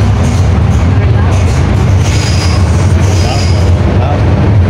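A Hong Kong MTR train runs at speed with a loud, steady rumble and rail roar, plus faint high squeals from the wheels, close and continuous.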